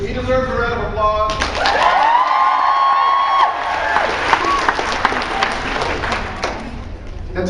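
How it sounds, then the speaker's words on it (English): Convention audience at a fan Q&A in New Orleans clapping and cheering, a loud crowd roar with scattered thumps and voices mixed in, a sustained tone early on, and clapping continuing after the cheers settle. "He deserves a round of applause."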